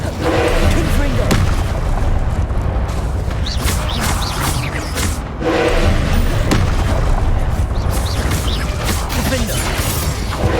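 Repeated blasting-spell explosions in Hogwarts Legacy combat: dense, loud booms and crashes over continuous rumbling action, with a brief lull midway and voices shouting spell names throughout.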